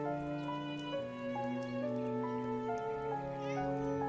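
Cat meowing in the puzzle video game I and Me, a sustained tonal, musical-sounding call with shifting pitch steps, steady and clear over a quiet background.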